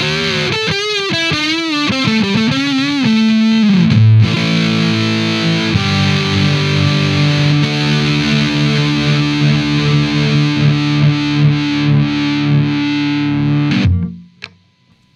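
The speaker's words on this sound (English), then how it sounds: "for anybody who wants to know how the neck pickup sounds on this" A Harley Benton kit electric guitar played through its neck pickup with heavy distortion: quick noodling runs give way to sustained, ringing chords that carry on for about ten seconds before cutting off abruptly.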